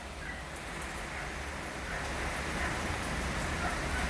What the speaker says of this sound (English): Yeah, it's a rainy one.